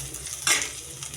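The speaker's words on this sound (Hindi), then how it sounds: "तो इसमें बंद गोभी डालूँगी" Chopped cabbage drops into a hot pan of chicken and vegetables with a single short sizzling hiss, close and clear, settling back into a low steady fry.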